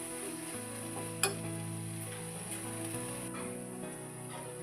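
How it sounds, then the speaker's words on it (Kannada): Spicy leftover gravy simmers gently in a pan while being stirred, giving a soft continuous bubbling and sizzling hiss with one sharp utensil knock, against a steady tonal hum in the background. "ನಿಮ್ಗೆ ಸೌಂಡ್ ಕೇಳ್ತಿರ್ಬೋದು ಕುದಿಯೋದು"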